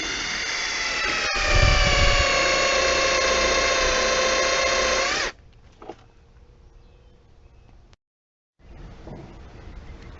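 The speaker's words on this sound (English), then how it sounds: "Put your weight on it because you're drilling the concrete." A loud, high-pitched power drill whines steadily for about five seconds drilling into concrete, then stops; quieter clicks and rustling follow with a brief silence.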